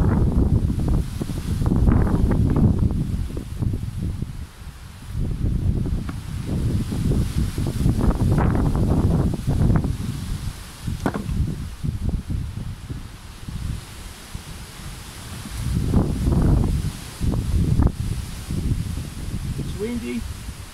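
Gusty wind buffets the microphone in low, rumbling surges beside beehives, rising and falling throughout, with occasional rustling.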